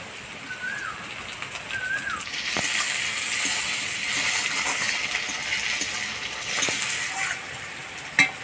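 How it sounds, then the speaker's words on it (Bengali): Chopped onion and tomato fry in a pan with a broad, steady sizzle that swells after a couple of seconds, while birds chirp in the background and a sharp knock sounds near the end. "পেঁয়াজটা হালকা লাল করে ভেজে নিলাম, এবার দিয়ে দেবো টমেটো কুচি"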